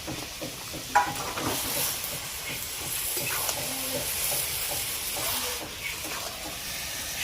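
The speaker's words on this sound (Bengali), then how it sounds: "এবারে আমি দিব সরষে বাটা, সরষে আর জিরা।" Mustard paste and cumin go into a pan of sautéed greens, producing a soft, steady sizzle and hiss with light stirring scrapes and an occasional faint clink of a utensil.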